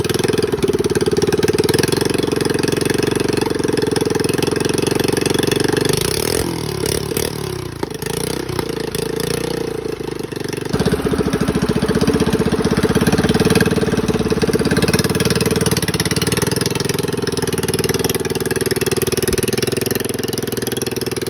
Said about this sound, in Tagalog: Sobrang tagal nga namin dito bago napaandar itong makina.